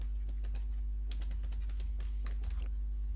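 Quick, irregular clicking keystrokes on a computer keyboard, close and fairly quiet over a steady low electrical hum, with no one talking.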